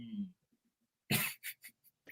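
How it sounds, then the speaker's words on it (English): A man coughs, first a short throaty sound, then a harsh loud cough and several quick lighter coughs, close up, in a quiet room. "I was coughing."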